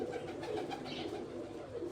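Large pigeons cooing close by in a coop, low soft repeated coos running steadily through the whole stretch without a break.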